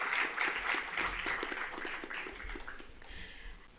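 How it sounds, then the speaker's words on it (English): An audience at a Universal Brotherhood Day event gives a round of applause, many hands clapping at a moderate level that stays steady and then thins slightly toward the end. "Please join me again to give a warm applause."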